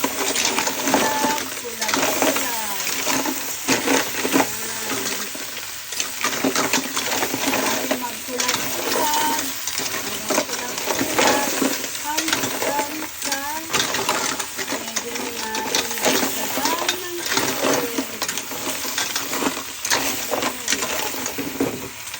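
Mussels cooking with chili leaves in a pot are stirred over high heat, giving a steady clatter of shells and sizzle that runs the whole time, with a voice talking loosely over it.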